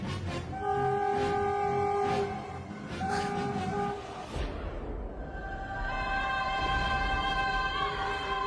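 Indian Railway train rolling past with a loud, sustained multi-tone horn blaring in several long blasts over steady rumbling wheels and carriage noise, no talking.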